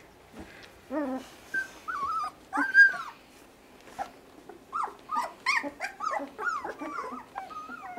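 A puppy whimpers and whines in short, high, wavering bursts, with a few brief growly yips between quiet pauses.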